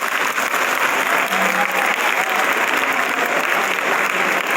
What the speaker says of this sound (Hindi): एक बार अपने लिए जोरदार तालियां बजा दीजिए